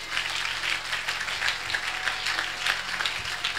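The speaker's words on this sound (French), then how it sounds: "si tu crois, applaudis le Seigneur alors" A church congregation applauds the Lord during a sermon, a steady, evenly sustained wash of clapping heard at a moderate distance, with a low hum underneath.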